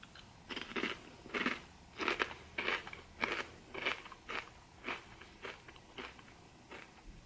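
Kettle cooked sea salt and vinegar potato chips crunched close up, about a dozen sharp, crackly bites and chews in a steady rhythm, with no talking.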